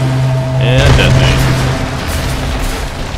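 Explosion set off in the video game Tomb Raider 2013, a loud broad rumbling boom under steady game tones and background noise, fading over a couple of seconds.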